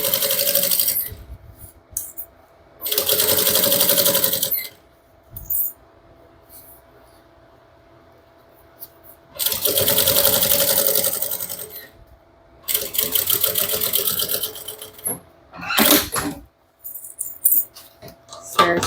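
A sewing machine stitches a Bella bag in bursts: three long loud whirring runs with quiet pauses, then shorter stop-start bursts near the end, close up with no talk.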